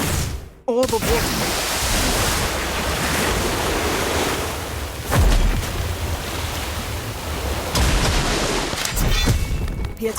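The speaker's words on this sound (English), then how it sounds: "Orb of water." A water orb spell in a Harry Potter video game sends a loud, rushing wash of surging water with a dull boom partway through, sustained and dense like crashing surf.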